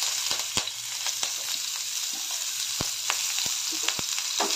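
Onion and curry leaves fry in hot oil in a pan over mustard seeds and cumin, giving a steady broadband sizzle with scattered sharp pops and crackles, close and with no talking.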